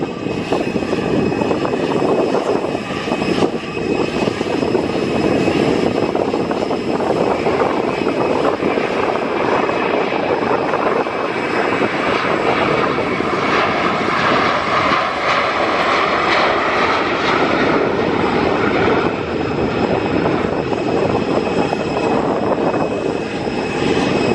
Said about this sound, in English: Ryanair 737-800 off to somewhere in Poland I cannot pronounce